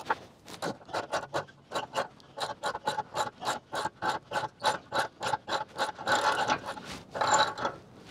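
A wrench tightens bolts on a trailer axle, giving a rapid run of about twenty evenly spaced ratcheting rasps close by, growing slightly denser toward the end.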